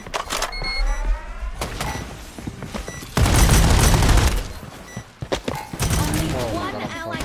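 Video game gunfire in bursts of rapid shots, loud and close, with a sustained heavy volley in the middle, interleaved with other game effects and speech.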